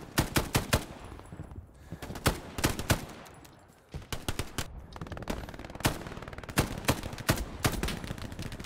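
Gunfire in the World War II shooter game Hell Let Loose, including an FG42 rifle: sharp, loud shots in quick bursts and irregular clusters, some close and punchy, continuing almost without pause.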